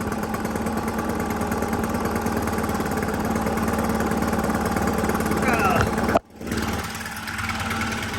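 A gas string trimmer or leaf blower engine runs at a steady, close idle with a continuous buzzing drone, then cuts out abruptly near the end before a rough sound resumes; no one speaks.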